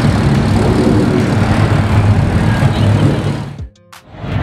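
A Porsche GT3 RS roars past at a car meet, a loud, steady engine rush filling the scene before cutting away abruptly near the end.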